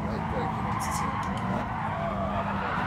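Gran Turismo Sport race car braking hard into turn one, engine droning under a brief tire skid and squeal, with someone talking over it.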